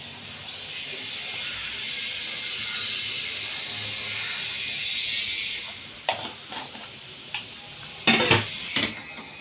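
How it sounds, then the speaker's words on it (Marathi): Wheat bran kharodi batter is stirred in a metal pot, with a steady scraping hiss for several seconds followed by a few sharp clinks and knocks of a spoon against the pot. "याला असं मिक्स करून घेऊयात"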